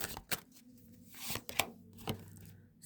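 Tarot cards are shuffled and drawn, giving soft close riffles, slaps and flicks at irregular intervals over a quiet background.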